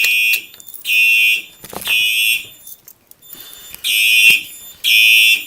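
During a fire alarm system test, a building alarm sounds in piercing electronic bursts of roughly a second each, repeating in a steady on-off pattern, loud and close with no speech.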